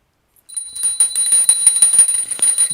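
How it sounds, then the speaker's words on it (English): A small handbell rings steadily during an incense offering, bright sustained ringing tones with rapid repeated strikes, close and loud after a brief silence. "please ring the bell as you do so"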